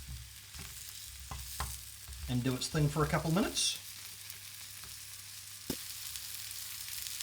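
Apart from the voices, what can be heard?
sausage sizzling in a frying pan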